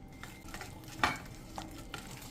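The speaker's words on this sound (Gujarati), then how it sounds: "ગોળને પણ સરસ એક જ ડિરેક્શનમાં મિક્સ કરી લીધો છે" A spoon stirs jaggery into a mixture in a pan with a soft, steady scraping and light sizzle, and one sharper clink partway through.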